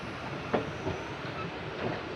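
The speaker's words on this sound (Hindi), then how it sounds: "सफ़ेदाबाद रेलवे स्टेशन पर हमारी ट्रेन का अराइवल होता हुआ" Passenger train pulling into Safedabad railway station on an inaugural special run, a steady rumbling rolling roar with faint clacking wheel beats and a sharp clank, continuous and fairly close.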